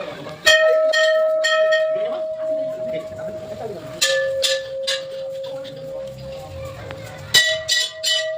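A temple bell rung by hand at a Hindu temple, striking loudly three times with bright metallic clangs that ring on with a long sustained tone, heard close over people talking.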